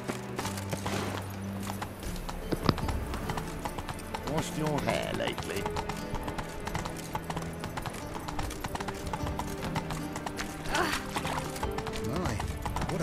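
Horse hooves clip-clopping in the video game The Witcher 3, a steady rhythmic trot with occasional whinnies over a game music score, while characters talk over the top.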